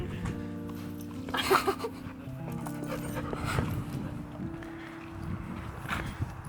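A puppy pants softly and steadily nearby, with faint whimpers and some light shuffling in a quiet room.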